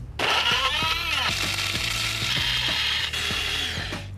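A laboratory grinder churning up food samples, a loud, close whirring roar with rhythmic knocking and rattling as the pieces tumble inside the machine.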